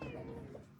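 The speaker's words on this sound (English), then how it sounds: "our cat is hungry" A hungry domestic cat lets out one short, close meow indoors, followed by a faint rustle.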